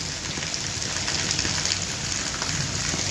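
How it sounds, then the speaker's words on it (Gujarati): Heavy monsoon rain in a village at Bhanvad, Gujarat, falls as a dense, even hiss that drums steadily throughout. No distinct thunderclap stands out. "गाजवीज साथे वरसाद थाय छे"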